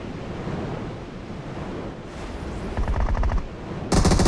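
Automatic gunfire rattles out in rapid bursts during a battle royale video game, growing louder toward the end over a steady hiss of wind-like background noise, with no talk over it.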